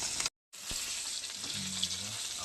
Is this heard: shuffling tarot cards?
no